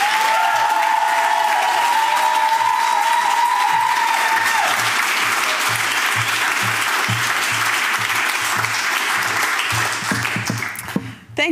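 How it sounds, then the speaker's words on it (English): A hall audience gives sustained, dense applause at a panel discussion, loud and steady throughout before it thins out and ends with a few scattered claps. "May I have an applause for Ina Shevchenko."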